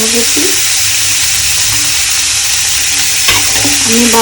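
Vegetables fry and sizzle in a pan while a spoon stirs them, a loud continuous hiss broken by scraping strokes and a few clinks, with no talking.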